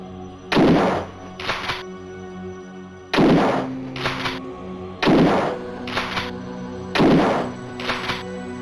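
Rifle shots in the Alone in the Dark CD-ROM game ring out as four loud, evenly spaced reports, each followed by a quick mechanical clack of reloading.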